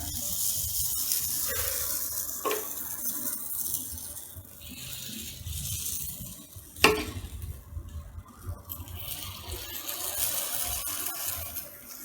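Kuzhi paniyaram batter sizzles in oil in a pan over a low flame, a soft steady frying hiss punctuated by a few sharp metallic knocks and clinks of utensils.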